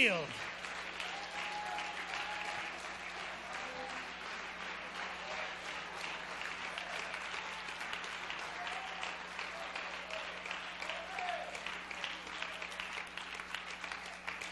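A church congregation claps steadily and continuously, a dense, even wash of many hands with murmuring voices underneath, from start to finish.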